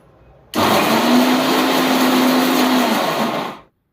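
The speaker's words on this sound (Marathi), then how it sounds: "वाटण वगैरे वाटून घेते." Kitchen mixer grinder blending spice paste switches on abruptly, whirring loudly and steadily for about three seconds with a high motor whine, then cuts off and spins down into silence.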